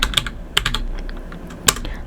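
Typing a command on a computer keyboard: a quick run of light, close key clicks in irregular clusters, with a louder tap near the end and no talking.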